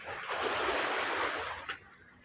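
Broadband rushing surf fills the clip, a steady wash of sea waves with a brief swell near the end, no voices.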